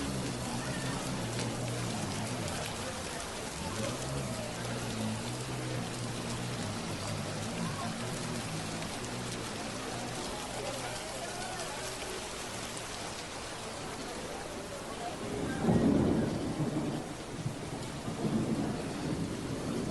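Heavy monsoon rain pours steadily over Hyderabad, a dense continuous wash of falling water with low rolling thunder rumbling throughout and a louder crack near the end.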